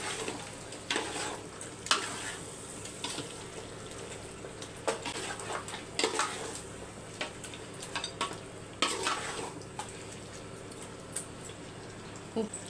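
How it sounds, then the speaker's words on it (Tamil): Mutton is added to a cooking pot and mixed, giving a soft sizzle with intermittent scraping stir strokes throughout; the sound is fairly quiet and no one speaks. "இப்போ மட்டனை மட்டும் சேர்த்துக்கலாம். மிக்ஸ் பண்ணி விட்டுடலாம்."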